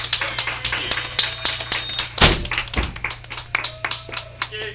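Passengers aboard a Tweetsie Railroad train clap in a short burst of sparse, uneven hand claps over a steady low rumble from the ride.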